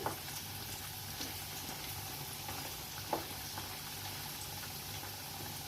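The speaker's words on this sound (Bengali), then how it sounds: "আমি আলুটা ভাজতে থাকি" Potatoes frying in oil for a Bengali doi potol chingdi dish, browning in the pan with a steady, low sizzle and occasional faint stirring clinks, alone without voices.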